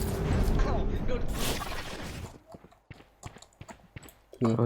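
Footsteps in the shooter game Valorant come as a series of quick, sharp taps in the second half, with clattering game effects and a player's voice over the first part.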